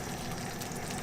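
Chakchouka simmering in a pan after an hour of cooking, its semi-liquid sauce giving off a soft, steady bubbling sizzle, faint and continuous with no talk.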